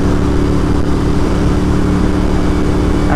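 A scrambler motorcycle fitted with a new aftermarket exhaust idles or runs steadily, a loud, close, continuous engine drone with a low, rich hum and no talking.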